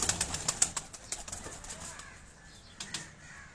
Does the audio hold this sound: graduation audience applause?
no